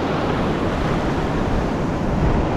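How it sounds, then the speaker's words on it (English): Ocean surf breaking out the back along the Fraser Island shore, a steady, loud, continuous wash of waves with some wind noise and no speech. "And waves breaking out the back."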